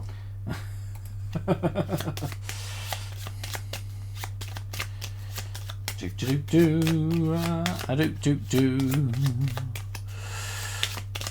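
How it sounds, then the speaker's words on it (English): Red card shuffling machine shuffling a deck, a rapid dry riffling flutter of cards heard in short bursts over a steady electrical hum, with people talking in between. "we've got a red Chuck Norris shuffling machine here"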